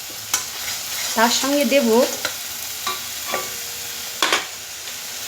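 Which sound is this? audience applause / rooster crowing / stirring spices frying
stirring spices frying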